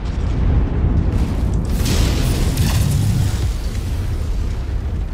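Explosion of a destroyed target in MechWarrior 5, a dense, loud rumbling boom that holds steady throughout, with a brighter crackling burst near the middle.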